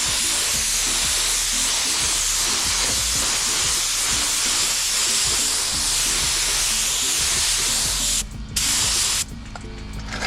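Spray gun laying tinted clear coat onto a car tail light, a loud continuous close hiss that runs steadily for several seconds before brief pauses near the end.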